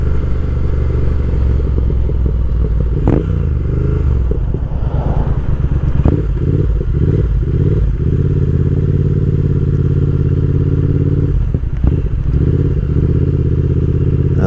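A 2020 Triumph Speed Twin motorcycle rides through traffic, its engine a loud, close, steady low rumble with wind buffeting and a few clunks and surges as it shifts and slows.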